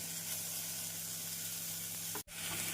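Drumsticks sauté with spice powders in a pan over a medium flame, giving a soft, continuous sizzle and a low steady hum, with a brief dip near the end.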